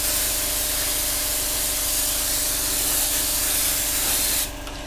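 Airbrush spraying a flat coat onto a Revell 1/48 F-15E Strike Eagle model kit at a desk, a steady close broadband hiss held unbroken for over four seconds before cutting off near the end.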